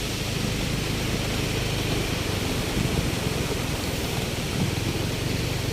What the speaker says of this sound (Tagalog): naririnig nyo na po ba yung falls?